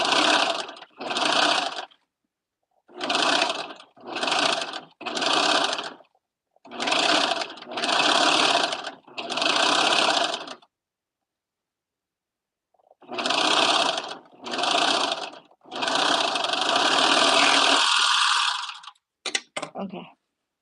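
A sewing machine stitches fabric in repeated bursts of rapid, loud mechanical whirring, each lasting one to two seconds with short pauses between, ending with a longer run and a few quick clicks.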